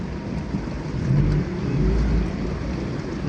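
Heavy rain in Krasnodar, Russia, a steady dense roar of rainfall with low rumbling swells, loud and continuous without any voices.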